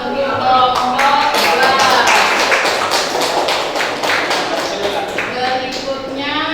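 Applause for a student group in a classroom, many hands clapping in a dense, steady patter that runs throughout with scattered voices mixed in.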